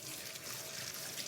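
Tap water runs steadily into a sink as spring onions are rinsed, a soft continuous splashing trickle heard close and fairly quiet, with no talking.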